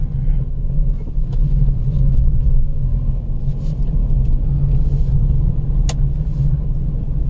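On a night drive in Pilibhit Tiger Reserve, a car rolls by with a continuous low rumble of engine and tyres, fairly loud and close, swelling slightly mid-way, with faint scattered knocks on top.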